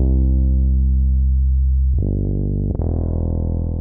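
An EQ'd synth bassline holds loud, sustained low notes with a buzzy harmonic tone, changing pitch twice, playing alone.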